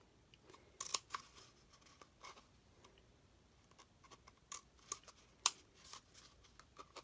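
Scissors snip through folded paper for a spooky castle craft, a series of quiet, close, irregular cuts and crisp paper rustles in an otherwise hushed room.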